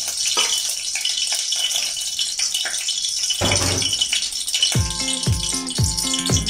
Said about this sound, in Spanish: Agregamos el caldito de las verduras.